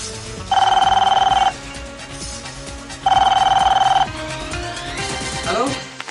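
A telephone rings twice in a police-office scene of an Assamese crime drama, with two loud, steady electronic ring bursts about a second long separated by a pause, then quieter room sounds and movement.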